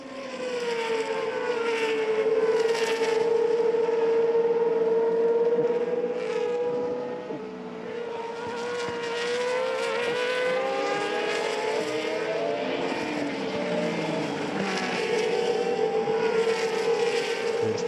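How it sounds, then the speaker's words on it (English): Formula V race cars scream around the Hungaroring circuit, several engines droning and shifting pitch together as they pass at close range, loud and continuous. "Number 8 car, Aurélien Panis, and Mathieu Vazavier looking like he's getting very, very racy indeed"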